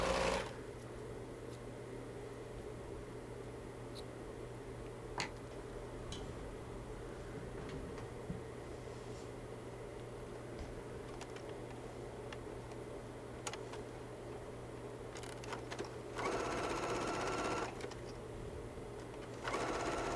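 A sewing machine runs steadily, top stitching the trim on a pullover hoodie hood, a close, even mechanical whir with light ticks and a louder burst of stitching near the end.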